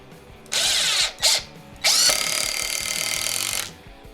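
A RIDGID Gen5X impact driver in speed mode 3 drives a screw in bursts: two short spins, then a longer hammering run of about two seconds, loud and close, with no talk.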